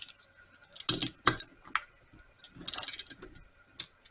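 Bolts on a 1954 Briggs and Stratton Model 6S engine being tightened with a ratcheting tool, heard as a few separate bursts of close, sharp clicking with quiet pauses between them.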